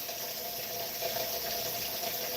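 Tap water runs steadily into a sink while hog chitlins are washed, a close, continuous hiss and splash with no talk.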